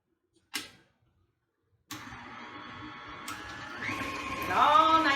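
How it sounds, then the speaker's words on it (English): An electric mixer beats chocolate chip cookie dough in a bowl. After a brief click and a pause, its motor whirs on steadily, then grows louder and rises in pitch toward the end. "We're going to use our mixer again."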